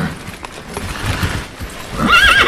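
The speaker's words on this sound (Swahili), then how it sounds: "Sikia kuna farasi anakuja huko" A horse whinnies loudly and close by, its hooves clip-clopping beneath the call in a short burst, with the neigh rising strongly toward the end.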